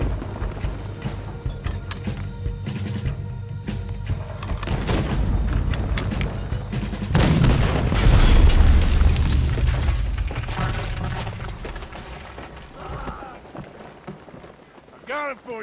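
Deep booming cannon blasts in Red Dead Redemption 2, heavy rumbling bursts rising to a loud peak midway, mixed with rain-like hiss and game noise in the background.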